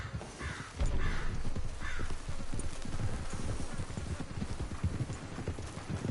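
Horse hooves clip-clop at a steady gallop in Red Dead Redemption 2, a dense, driving rhythm of close hoofbeats with crows cawing above and a brief whinny.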